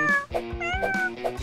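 Repeated cat meows, about four drawn-out tonal cries in quick succession, close and fairly loud with no other sound around them.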